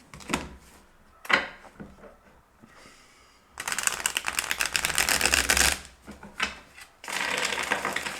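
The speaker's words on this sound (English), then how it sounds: "Wait, I will shuffle here." Tarot cards are shuffled in several bursts of rapid riffling and fluttering, separated by short pauses with quiet handling sounds.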